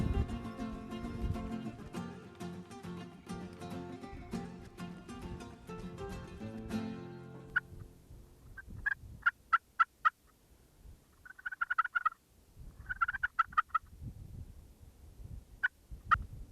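Rio wild turkeys call loudly in the opening seconds, then scattered sharp bursts and short gobbles come in spurts over quiet, some near and some farther off.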